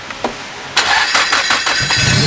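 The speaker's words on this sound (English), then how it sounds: "I've never heard an exhaust this quiet" A Nissan S15 Silvia with a very quiet exhaust starts up close by and settles into an uneven, pulsing run after a brief quiet lead-in.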